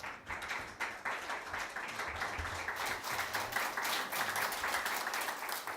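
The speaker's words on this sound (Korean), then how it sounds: "우리 다 같이 일어나셔서 박수해 주시기 바랍니다." A standing church congregation claps together as a pastor comes forward to preach, a steady wash of many hands that swells slightly and holds at a moderate level throughout, with no talk over it.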